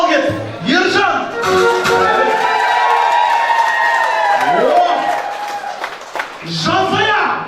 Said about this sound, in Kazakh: Мен қазір Ержан деп айқайлаймын, шапалақ айқайшы ысқырып болсын